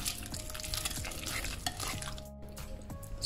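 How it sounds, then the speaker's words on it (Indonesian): A spoon stirs a sugar and lemon juice mixture in a bowl, soft scraping and swishing strokes close by, quiet with light clinks. "Kita aduk"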